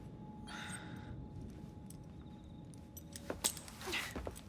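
Keys jangling as they are handed over in the video game Assassin's Creed Syndicate, a few quick metallic rattles near the end, close and fairly soft over a low ambient hum.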